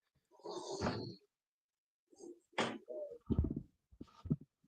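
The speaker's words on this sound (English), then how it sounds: "Do you have an owl or something outside your room?" An owl hoots outside a room, heard from indoors as a few short, muffled calls separated by quiet gaps; no speech.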